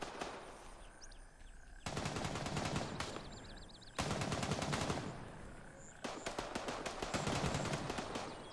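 Video-game automatic gunfire in Gray Zone Warfare comes in three long, rapid machine-gun bursts, loud and steady, separated by short pauses with faint ambient noise between them.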